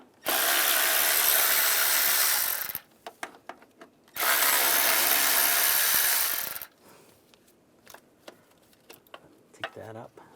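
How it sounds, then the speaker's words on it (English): A 10mm socket on a ratchet or power driver zips out bracket bolts on a 2011-2018 Ram 1500 3.6L V6 in two loud bursts of about three seconds each, followed by clinks and handling noises. "There's a bracket right here with two bolts in it. You want to take those out. Use a 10mm socket."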